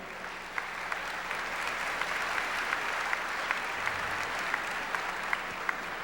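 An audience applauding at a Catholic talk by a priest, dense continuous clapping at a steady level for several seconds with no voices.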